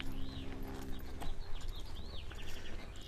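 A gray horse schooled under saddle in a western bit moves with soft, rhythmic hoof clops at a walk, moderately close, with faint birdsong and light ambient noise around it.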